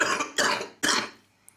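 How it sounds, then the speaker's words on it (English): Three sharp coughs in quick succession, close and fairly loud, each a harsh burst fading into a short tail, with quiet afterward. "as I cough a little bit"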